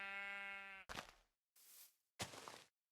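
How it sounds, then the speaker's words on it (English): A sheep in the Minecraft GregTech New Horizons modpack gives a clear bleat, followed by a few short rustling and footstep-like game sounds in otherwise quiet surroundings. "Hello, Mr. Sheep."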